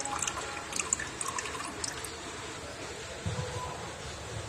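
Old dirty water from a fish tank holding molly fish is poured out, giving soft splashes, trickles and drips that come in uneven bursts, faint and close, with a fuller gush near the end.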